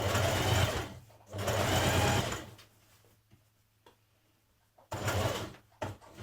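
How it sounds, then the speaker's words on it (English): A sewing machine top-stitches along a skirt seam for a zip, running in two steady bursts, pausing near the middle of the clip, then restarting briefly near the end, close and loud with no talk. "So now I'm stitching down this side on the top."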